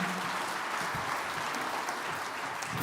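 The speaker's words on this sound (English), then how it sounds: "Give them all a round of applause." A school auditorium audience claps after a winter band concert, a dense, even wash of many hands applauding at moderate distance with no voices over it.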